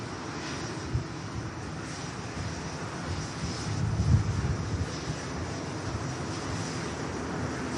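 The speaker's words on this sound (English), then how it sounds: "here's the North Dreamliner taxiing out." A Boeing 787 Dreamliner taxiing at Manchester Airport gives a steady, moderately distant jet engine whine and rumble that holds evenly throughout, with a slight swell midway and light wind noise.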